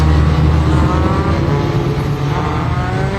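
Sports 2000 racing cars roaring around Thruxton circuit, a loud, steady, close engine drone with several cars running together and no voices.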